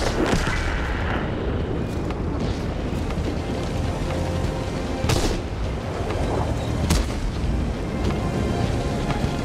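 Tank guns booming in World of Tanks, with the Bat.-Châtillon 25 t in the fight: several sharp, heavy blasts rising over a dense, rumbling battle din, loud and close.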